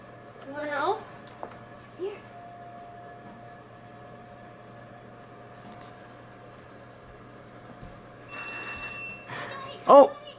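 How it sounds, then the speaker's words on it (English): A short electronic phone ring sounds near the end of a quiet room, after brief voices and small noises earlier. "Oh, your phone's ringing"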